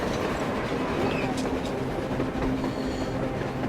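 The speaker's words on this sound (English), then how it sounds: "A train! A damn train on the surface!" Train rolling on the surface in the video game Metro Exodus, a steady dense rumble and rattling of wheels on rails, loud and continuous throughout with faint higher squeals.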